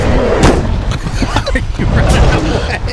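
Heavy booming gunfire rings out in the Bigfoot video game, several loud blasts and thuds in quick succession, mixed with excited shouting from players.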